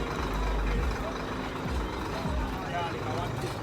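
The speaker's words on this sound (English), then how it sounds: "The truck's so loud." A loud truck engine rumbles nearby in a busy downtown Montego Bay street, low and steady, with passing traffic noise and brief voices in the background.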